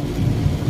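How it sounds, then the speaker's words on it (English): Very heavy rain heard from inside a parked car makes a brief, dense, low rumbling wash. It is steady and fairly loud, with no talk over it. "Very heavy raining."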